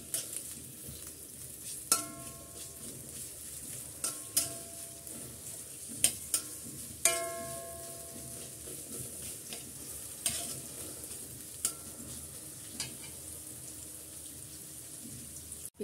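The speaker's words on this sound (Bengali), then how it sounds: "পেঁয়াজ কুচিগুলো একটু নেড়ে চেড়ে নরম করে নিচ্ছি" Chopped onions frying in hot oil and being stirred, with a low continuous sizzle punctuated by sharp, regular clinks and scrapes of a spatula against the pan, fairly close and unaccompanied by talk.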